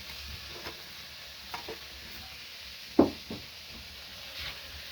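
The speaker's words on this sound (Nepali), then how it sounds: "अझै घिउमा भुट्नुपर्छ नि" Food fries gently in ghee while being stirred, a soft low sizzle with a few scattered scrapes and knocks of the spoon against the pan, one sharper clack standing out midway.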